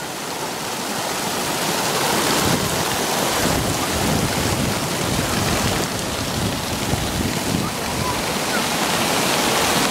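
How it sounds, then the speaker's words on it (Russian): Water drips and sprays down from above in a park, a dense, continuous rushing patter that stays loud and steady from start to finish. "Прикольно, сверху так капает."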